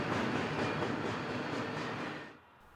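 A westbound train pulled by EMD diesel locomotives on the Alhambra subdivision near Park Avenue in Pomona, heard at ground level as a loud, steady rumble of passing cars that fades in the final moments.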